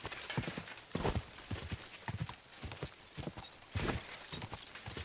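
Horse hooves pound in a rapid galloping rhythm in the video game Kingdom Come: Deliverance II, close and steady, with the thudding beats rising and falling over about five seconds.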